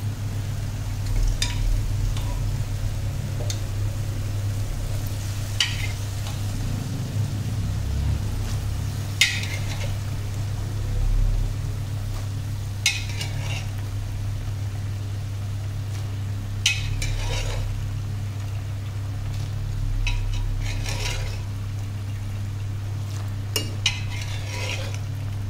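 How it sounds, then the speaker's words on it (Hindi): Boiled chickpeas tipped into a pan and stirred for a chickpea curry, with irregular metal spoon clinks and scrapes over a steady low hum and faint sizzle. "अब हम इसमें छोले डालेंगे।"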